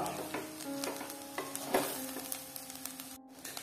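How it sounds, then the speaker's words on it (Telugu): Rice being stirred into a moringa leaf mixture in a hot pan, giving a steady close scraping and soft sizzle with no talking. "ఇది మంచి మిక్స్ చేసేసాను రైస్ వేసి"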